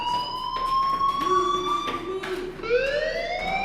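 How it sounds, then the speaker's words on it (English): A fire alarm in the video game Life Is Strange sounds steadily and loudly, a sustained electronic wail whose pitch slides and overlaps in layered tones across the whole stretch. "do you hear that fire alarm?"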